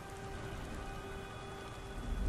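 Steady rain pours down in the video game Beyond Two Souls, a dense, even hiss of drops on surfaces that holds at a moderate level throughout.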